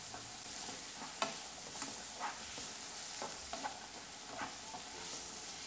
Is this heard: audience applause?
no